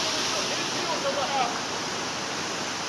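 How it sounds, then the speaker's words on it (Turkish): Steady roar of the Katır Uçtu waterfall, a remote spot reached by an enduro crew, filling the whole clip as a dense, constant rush of falling water with no clear breaks. "şu an Katuruşlu Şelalesi'ndeyiz"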